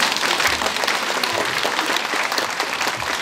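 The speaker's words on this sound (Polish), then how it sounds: "Te brawa rozpoczęły spotkanie autorskie" Crowd at an author meeting with a Polish actor breaking into applause, a thick, steady wash of many people clapping, loud and close throughout.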